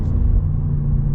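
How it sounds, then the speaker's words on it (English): A 5-liter supercharged V8 in a 2022 Range Rover Sport SVR rumbles deep and loud through the exhaust, a steady close low drone without much whine. "You don't get a whole lot of supercharger whine, even though it is a 5-liter supercharged V8."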